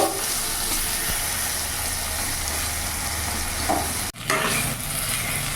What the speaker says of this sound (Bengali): এই বেগুনগুলো লাল লাল করে ভেজে নেব।